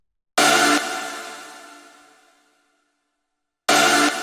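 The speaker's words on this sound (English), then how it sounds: "Then we have this little stab, which sounds like this." A single synth stab from a hard, distorted rave techno track hits loud and bright, then decays over about two seconds into silence before a second stab cuts in at the end.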